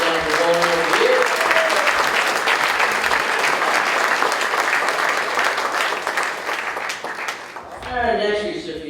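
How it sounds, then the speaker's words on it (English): Steady applause fills a banquet hall honoring a man for his years of work in candlepin bowling, sustained clapping from a crowd that fades near the end, with brief talk at the start and finish. "stand up and take a round of applause for all the work you've done for Candlepin Bowling over the years"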